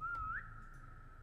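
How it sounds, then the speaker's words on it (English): A person whistles during Roblox SCP 3008 gameplay in an after-hours IKEA setting: a single clear, close tone that glides upward, then holds steady at one pitch over a low background hum. "I'm gonna keep whistling."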